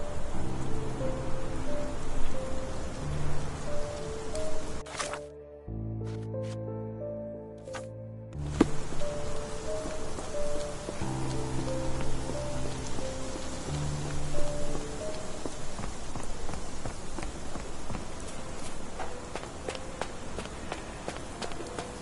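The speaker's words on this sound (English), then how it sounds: "This dreary rain is making a miserable day even worse." Steady rain falling in a video game, a dense continuous hiss mixed with soft tonal music that briefly drops out, with no voices over it.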